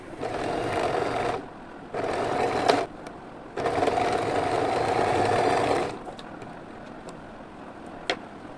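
A sewing machine stitches the shoulder seams of a baby frock in several steady whirring bursts, each a few seconds long, with brief pauses between and a faint click near the end.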